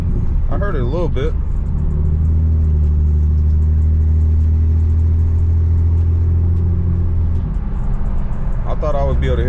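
Steady low engine rumble from an 800hp BMW 335i with a modified N54 turbo engine cruising at normal speed, a continuous mid-frequency drone, with a person talking briefly at the start and end.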